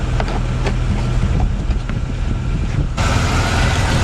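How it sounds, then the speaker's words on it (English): Wind blows outdoors at a transmission repair spot, a loud, rough rumble buffeting the microphone continuously with faint clatter underneath, briefly brighter and hissier toward the end. "It's a little bit windy out here"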